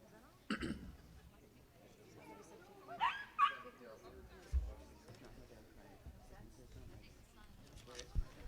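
A dog gives a few short barks and whimpers indoors, scattered faint bursts over a quiet room with low background murmur.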